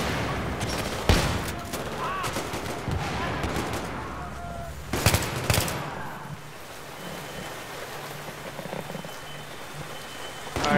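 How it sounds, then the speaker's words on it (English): Battlefield 3 combat: bursts of rapid gunfire and a couple of sharp blasts, loud early on and then thinning to a crackling background rumble, with game audio throughout. "throwing a grenade back right hand corner."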